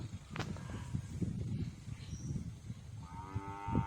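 Cattle moo repeatedly over a low rumble of farmyard noise, with a drawn-out call near the end, fairly close.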